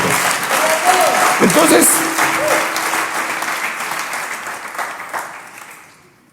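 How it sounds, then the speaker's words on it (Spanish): A church congregation gives loud, dense clapping and cheering that swells at once and slowly thins out over several seconds, with a voice briefly speaking over it. "denle un aplauso al Rey bendito"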